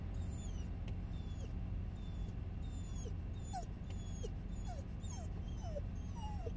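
A dog cries and whimpers nonstop inside a car, giving repeated thin, high whines over a steady low road hum, fairly faint.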